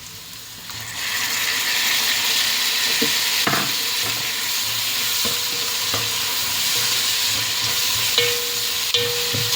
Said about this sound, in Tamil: இப்போ இதோட ஒரு தக்காளி வெட்டி வச்சுருக்கிறேன், அதையும் போடுவோம்